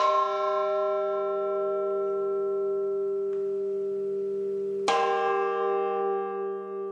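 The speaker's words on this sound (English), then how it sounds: "a bell is actually a musical instrument that can produce many different sounds and also intensify moods" A large cast church bell, from Alpine bell-founding craft, rings with a long sustained metallic hum and overtones slowly decaying, then a fresh strike near the end brings a bright renewed clang that rings on alone.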